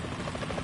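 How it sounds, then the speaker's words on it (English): A helicopter in the video game Metal Gear Solid 2 gives a brief, faint, steady rotor drone with a buzzing pulse, alone with no speech. "Is that a chopper I just heard?"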